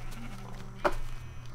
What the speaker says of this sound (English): time to shear the sheep again